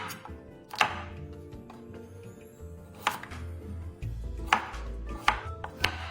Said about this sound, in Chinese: 先切成小段，切开，去掉木薯中心硬梗